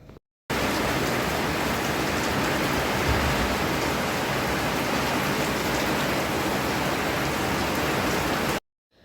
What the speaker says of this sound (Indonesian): hujannya tuh deres banget guys